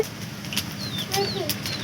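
Chickens cluck and peep softly in a few brief calls against a low background.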